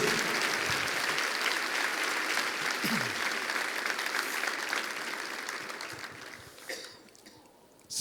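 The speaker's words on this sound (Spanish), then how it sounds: "¿Cuántos le dan un aplauso al Rey de Reyes y al Señor de los Señores?" Congregation applauding during a church service, sustained loud clapping that gradually thins out and fades, with a cough and a few faint voices near the end.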